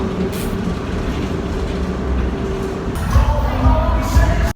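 Inside an empty moving tram, a steady low rumble and rolling hum of wheels on track fill the space, growing louder with a rattling surge near the end; no voices stand out.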